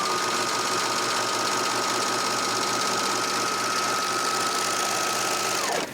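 A Janome 8002D serger overlock machine runs steadily while sewing a rolled hem on fabric, a continuous close whirring motor hum with a faint steady whine that holds the whole time and stops abruptly at the end.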